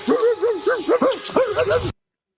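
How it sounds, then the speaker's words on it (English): A big dog indoors gives a run of rising and falling whining yelps and short barks, about a dozen close, loud cries in quick succession before the sound cuts off abruptly. "you guys heard me tell the dog to go on"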